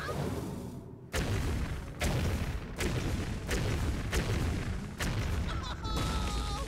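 Matter Bomber explosions in the Hearthstone video game: a rapid series of five or six sharp booming blasts, roughly one per second, loud and punchy, with a brief chiming effect near the end.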